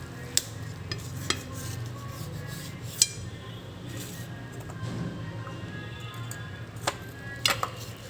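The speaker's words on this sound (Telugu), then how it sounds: "దీన్ని ముక్కలు కోసుకుంటున్నాను" Cooked fish sona is cut into pieces in a home kitchen, with a few sharp knife taps and clinks against a pan over a quiet, steady background hum.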